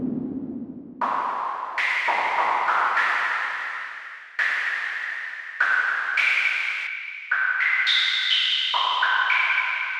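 An airy Phase Plant synth pad whose filter follows each note, giving sustained resonant tones that step up and down in pitch one after another, each entering with a soft swell and ringing on, alone and fairly loud.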